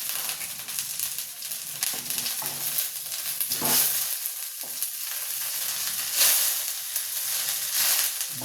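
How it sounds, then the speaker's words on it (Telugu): Food sizzling in a spoonful of oil in a deep pan, a steady close crackle and hiss with occasional stirring scrapes, no talk. "బాగా ఫ్రై చేసుకొని ఆయిల్లోనే ఇది కలర్ మార్చుకోవాలి."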